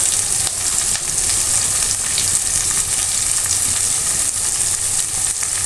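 Sliced onion fries in hot oil with salt for a liver bhuna, a loud, close, steady sizzle that continues unbroken throughout the clip.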